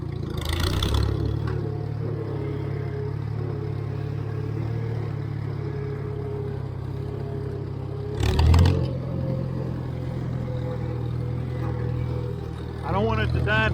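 A Farmall tractor engine runs steadily in third gear, a continuous low rumbling drone with a brief louder clunk partway through and a rise near the end.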